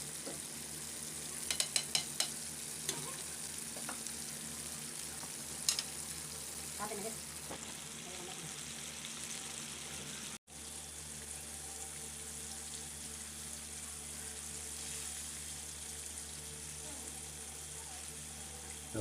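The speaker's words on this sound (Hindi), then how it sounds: "अब हम इसको फ्राई करें, 4 से 5 मिनट में आपका चिकन बिल्कुल रेडी हो जाएगा।" Chicken coated for a zinger burger fries in hot oil with a steady, dense sizzle that holds for about twenty seconds, a few faint clicks and clatters early on and one brief dropout midway.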